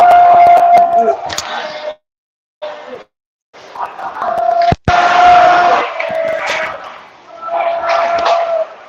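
Crowd noise in an ice hockey arena late in the third period: loud cheering and shouting in bursts with brief silent gaps, a sustained tone running beneath, and one sharp bang near the middle.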